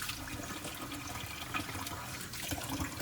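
Running water splashes from a sink faucet into a cup, a steady rushing stream heard faintly and without talk.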